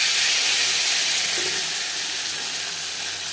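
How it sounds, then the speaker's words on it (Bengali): Square paneer cubes sizzle in a pan of hot refined oil with salt, giving a steady, loud, close-up frying hiss that fades only slightly throughout, with no voices. "সবার প্রথমে পনির ভেজে নেব।"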